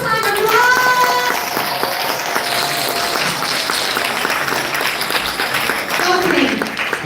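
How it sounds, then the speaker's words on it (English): Audience applauding after a school drama performance, a broad wash of clapping that holds steady for several seconds, with voices and cheering mixed in. "So give that big, big round of applause one more time, everyone."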